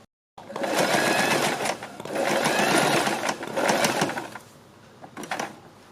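A sewing machine runs in three bursts, loud and close with a rapid whirring stitch rhythm, as it sews a seam on a kurti, followed by a few short clicks.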